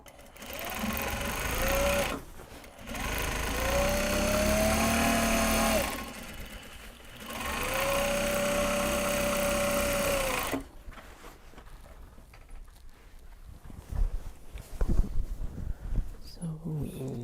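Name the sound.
sewing machine stitching canvas tote bag bottoms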